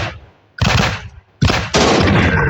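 Heavy gunfire from a shooting video game comes in loud, dense bursts, with short gaps between the volleys and a sustained final burst.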